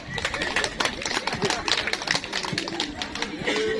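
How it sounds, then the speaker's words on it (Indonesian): A crowd claps hands steadily after a spoken rhyming pantun at a village head candidate's vision and mission address, a dense, continuous patter of many hands with voices chattering underneath. "Tepuk tangan dulu"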